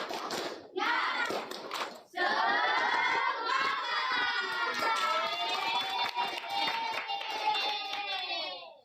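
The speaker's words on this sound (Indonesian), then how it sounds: "Tepuk semangat" A classroom of students doing a rhythmic spirit clap, sharp clustered claps at the start, then loud chanting voices and cheering that fill the room and fade toward the end.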